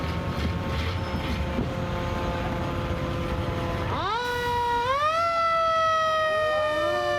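Siren of a 1949 Ford Sanford fire engine, Engine 1 of the New Hackensack Fire District, wailing loudly at a community day parade, steady at first and then sweeping upward in a rising whoop over crowd and engine noise.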